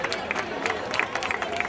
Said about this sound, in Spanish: Venga, fuerte aplauso para Noelia